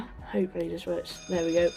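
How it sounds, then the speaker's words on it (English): A cockpit fire alarm bell being tested in the PMDG DC-6 flight simulator rings in short bursts, then one longer ring, moderately loud, while someone speaks over it. "You can hear the alarm going off."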